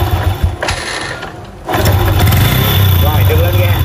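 A motorcycle engine is kick-started with a weak battery during ignition timing work: a short sputter, a brief lull, then the engine catches and settles into a loud, steady idle close by, with someone talking over it.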